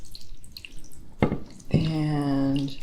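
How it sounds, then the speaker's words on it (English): Warm water poured from a pitcher into a baking pan around crème brûlée cups for a water bath, a close steady splashing pour after a couple of brief splashes. "We're going to pour water halfway up the cups"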